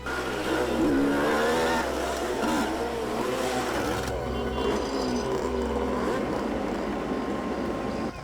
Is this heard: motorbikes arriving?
yes